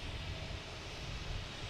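A Delta airliner in from Athens rolls past at Boston Logan Airport, its jet engines producing a steady broadband roar at moderate distance, constant and unbroken with no voices.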